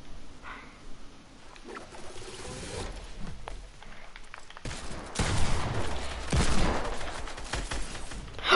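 Rapid bursts of gunfire from a French-language shooter video game, a few scattered shots early and then a denser, louder volley in the second half, all close and unaccompanied by talk.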